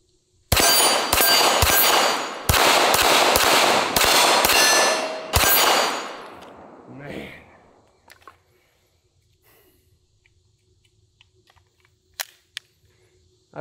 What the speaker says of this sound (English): I could sit out here and just shoot this thing all day long